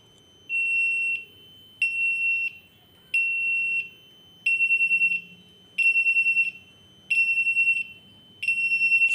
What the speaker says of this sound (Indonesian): sampai buzzer di kamar kapten dan messroom menyala